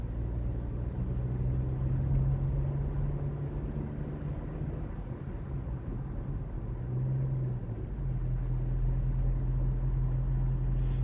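A learner's car climbs a steep hill in Newton Abbot during a mock driving test, a steady low engine drone heard from inside the cabin that shifts slightly partway through.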